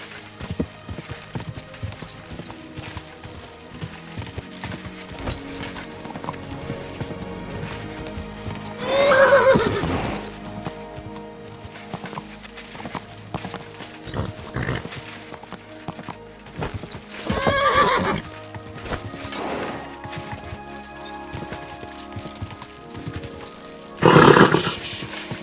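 A horse in Kingdom Come Deliverance II gallops with steady clip-clop hoofbeats throughout, breaking into loud neighs and whinnies at several points, with occasional speech.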